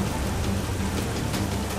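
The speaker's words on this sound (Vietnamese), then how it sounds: "Sông đang yên đang lành, trời lại có mưa lớn thế này." A dense, steady roar of heavy rain falling on a river in a cartoon, with a low rumble of thunder mixed into the constant downpour, loud and close throughout.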